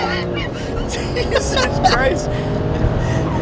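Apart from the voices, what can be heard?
BMW 335i accelerating hard, transmission shifting and slipping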